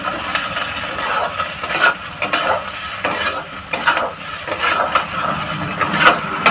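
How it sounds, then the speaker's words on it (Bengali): Garlic and ginger fried and stirred in a pan with a splash of water: a loud, continuous sizzle fills the air while a spatula scrapes through it in regular strokes, heard up close. "দিয়ে এটাকে ভালো করে ভেজে নেবো"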